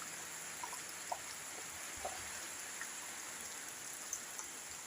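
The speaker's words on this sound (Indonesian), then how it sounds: "Nih guys, hujan terus." Rain falls steadily in a soft, faint hiss, with scattered louder drops pattering on a surface now and then; no voices.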